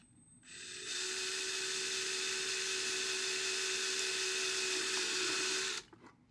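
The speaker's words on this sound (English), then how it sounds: "now I've got my drill here, and I've got a 1/16 inch drill bit." A small drill with a 1/16 inch bit bores a hole in a Super Nintendo (SNES) Jr plastic case, a steady high-pitched whine running close and loud for about five seconds before stopping.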